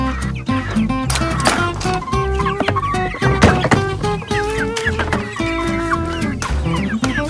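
Meat chickens nearly two months old cluck and chatter busily close by, a dense overlapping flock with no voices.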